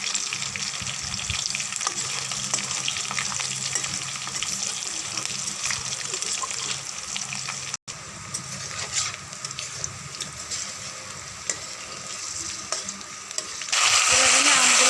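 Dried red chillies, green chillies, garlic and bay leaves frying in oil for a sweet-sour mango pickle, a loud continuous sizzle with occasional stirring scrapes that surges brighter near the end, close with no talking.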